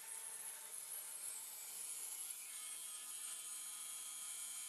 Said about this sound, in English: I'm gonna go ahead and cut this out on the bandsaw.